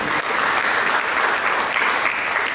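Loud, dense applause from a church congregation during a service, steady, continuous clapping filling the room with no voices over it.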